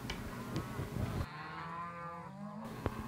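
Cattle mooing in a Texas pasture in Ellis County, a herd of about 100 head: a few low lowing calls in sequence, moderately close and clear over outdoor ambience, with no talking.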